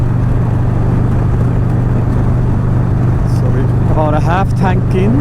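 Motorcycles cruising on a hot-weather road ride with big, long corners, a steady loud engine drone with wind rumble throughout, and a voice briefly talking near the end.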